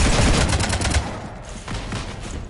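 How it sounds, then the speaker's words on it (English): Dense volleys of gunfire in Mass Effect 3 rake a ship, loud and continuous, heaviest at the start and then easing into a steadier rattle of shots. "You want to stop shooting up my ship?"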